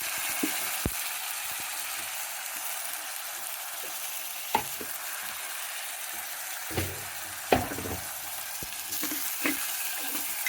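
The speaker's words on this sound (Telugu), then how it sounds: "ఇప్పుడు మాంసం కడిగి పెట్టుకున్నాను శుభ్రంగా వేసేస్తానంట" Washed mutton pieces go into a pan of frying onion, chilli, ginger-garlic paste and tomato, giving a steady sizzle under a few sharp clacks and stirring knocks, with no talking.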